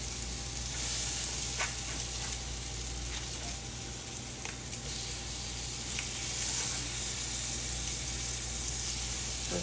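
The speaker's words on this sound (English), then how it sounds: "We've still got plenty of butter in the bottom. They're already starting to cook and soften." Peach halves cook in melted butter in a pan, giving a steady soft sizzle and hiss with a few faint clinks, close and continuous, with no talking.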